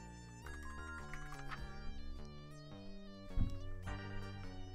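Phone ringing in The Textorcist video game, a melodic electronic ringtone repeating in a steady pattern of bright tones for several seconds, fairly loud and alone.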